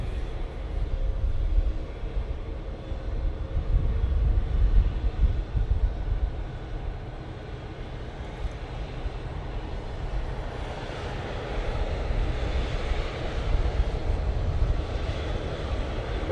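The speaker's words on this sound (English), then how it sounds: "TUI 787-9 Dreamliner off to Cancun" A TUI Boeing 787-9 Dreamliner takes off for Cancun, its jet engines producing a steady, loud low roar that swells and holds throughout, with no talking.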